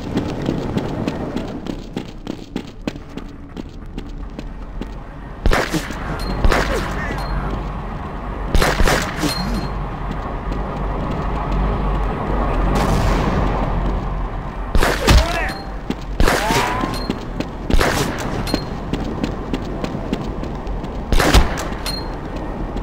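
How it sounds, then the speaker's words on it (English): Grenade explosions and gunfire in Half-Life 2, a steady crackle of shooting with several loud booming blasts spread across the stretch, over game ambience and occasional voices. "Gordon, lob a couple grenades"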